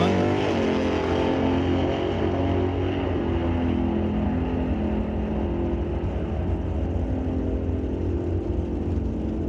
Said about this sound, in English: Clean run for the 65 Dodge.